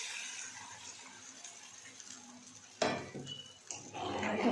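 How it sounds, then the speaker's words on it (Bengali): Water is poured into fried masala in a hot cooking pot: after quiet utensil clatter, a sudden loud sizzling burst erupts, then settles into steady hissing and bubbling close by. "এবার এর মধ্যে দিয়ে দেবো হচ্ছে অল্প পরিমাণ মতন জল।"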